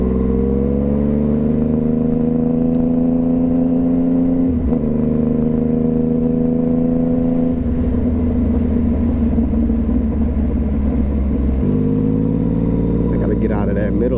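A motorcycle engine drones steadily and close up while riding through big-city traffic, with a few changes in pitch and load and a brief rise in revs near the end. Talk runs over it throughout.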